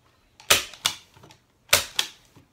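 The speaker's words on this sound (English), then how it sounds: "I'm just gonna put a couple staples in" A staple gun firing staples to fix wire onto a canvas: four sharp, loud snaps in two quick pairs about a second apart, alone with no talk.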